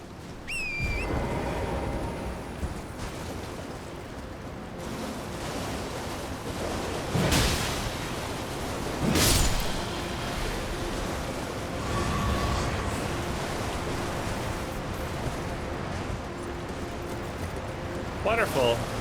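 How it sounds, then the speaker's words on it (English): A waterfall in the Elden Ring game, heard as a steady, broad rushing roar that runs unbroken for the whole stretch, with a voice speaking over it and a few sharper bursts along the way. "Waterfall."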